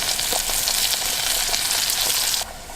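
Chicken skin fries in hot oil with a steady, close, dense sizzle and crackle that drops slightly in level near the end.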